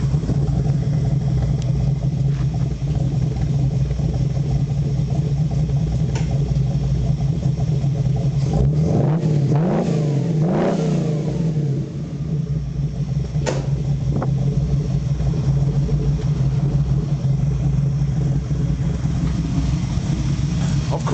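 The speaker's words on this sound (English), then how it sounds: "give the engine a little rev so you can hear how it sounds" A Ford 302 V8 with an FMX automatic, fitted in a Hensen M30 and still cold, idles with a loud, steady rumble, then rises in a couple of revs around the middle before settling back to idle.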